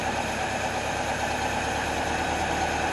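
A 1977 Toyota Celica engine idles steadily after a valve adjustment, with slightly tight valves; a continuous, even mechanical hum with a faint ticking texture runs close and unbroken throughout, with no voices.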